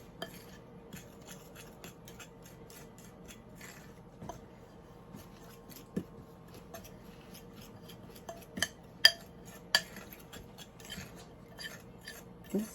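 A spoon stirs flour into a streusel topping for peach muffins in a bowl, giving quiet, irregular scraping and clinking taps that grow a little sharper toward the end.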